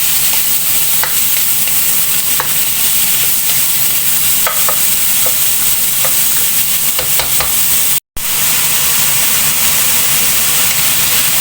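Meat fries in a pan, a dense, steady hiss and sizzle that stays loud throughout, with occasional stirring clicks and one brief dropout.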